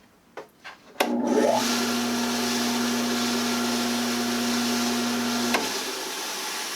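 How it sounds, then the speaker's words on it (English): A Diamondback 7-inch tabletop tile saw with a diamond blade starts up after a few soft knocks and runs at a steady, fairly quiet whine for about four and a half seconds before switching off. "That is one extremely quiet tile saw."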